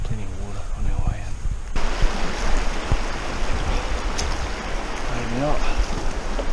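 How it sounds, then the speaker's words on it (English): A river flows in the Great Dividing Range of Victoria with a loud, steady wash of water close by, while a voice talks over it at the start and end. "It's quite nice we're along this river"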